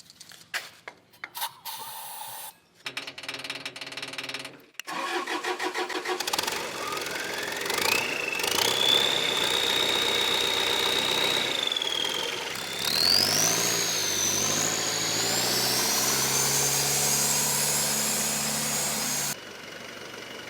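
570HP Nissan VK56DE engine from Hartley Engineering: a few clicks and cranking bursts, then it fires and settles into a steady idle with a rising whine, running close and loud before cutting off near the end.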